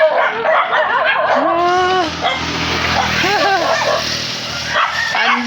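Many dogs yip, whine and bark together in high, rising cries, loud and close, with overlapping whimpers throughout.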